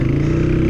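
A motorcycle with an aftermarket popping exhaust idles close by, giving a loud, steady low rumble with a fast pulsing throb and no talk.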